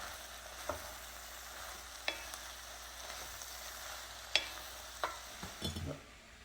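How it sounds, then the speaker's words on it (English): Corned beef dinner ingredients sauté quietly in a pan under a faint, steady frying hiss, with a few soft utensil clicks and scrapes from occasional stirring and no talking. "Give it a stir, saute, and then I'm going to cover with the lid"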